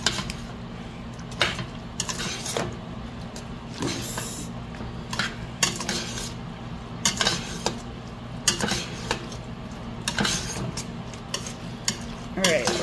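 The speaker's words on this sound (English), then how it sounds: "We're gonna give this all a good stir." A pot of pasta mixed with canned ingredients and reserved pasta water being stirred, with repeated scraping and clinking strokes of a utensil against the pot, close up over a low steady background hum.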